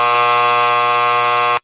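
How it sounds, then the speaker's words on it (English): A long, steady electronic buzzer sounds loud and unbroken for about a second and a half before cutting off abruptly, with no talk over it. "The long version of the buzzer."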